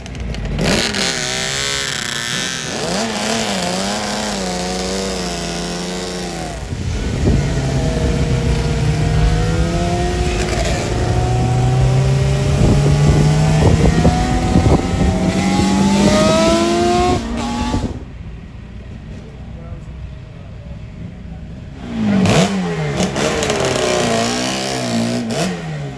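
Two Suzuki RG Gamma two-stroke motorcycles idle and rev nearby, their engines rising and falling in pitch with sharp revving passes, a brief quieter lull, then another burst of throttle.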